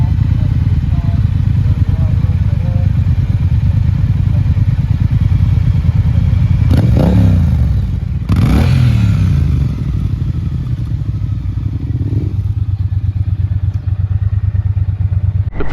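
A motorcycle is ridden through the Peak District, its engine a continuous loud drone with low tonal rumble, wind buffeting and a couple of sharp gear-change or revving sweeps midway, heard from the rider's position.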